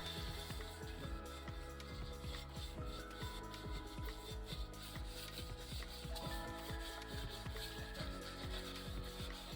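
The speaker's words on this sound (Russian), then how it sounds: "Сейчас то, что не отошло само, дочищу губкой" A non-scratch sponge scrubs leftover burnt residue from the bottom of a pot in steady, continuous rasping strokes, close and fairly loud, with no talking.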